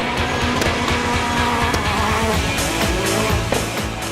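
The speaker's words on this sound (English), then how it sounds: "he's going to go up the street and do donuts around moving trolley cars" Ken Block's car drifting and spinning donuts around moving trolley cars on a city street, a loud continuous engine roar with tire noise and sharp transient bursts throughout.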